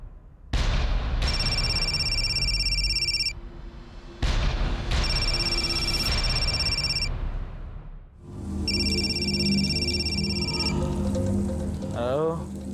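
A telephone rings during a call in a Hindi police crime drama, three separate bursts of a bright electronic trill separated by pauses, loud and close, with low music and a voice beneath.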